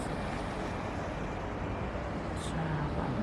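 Heavy trucks and other traffic roll past on a busy road near the Clifton Suspension Bridge, a constant loud broadband roar with no break, close to the listener.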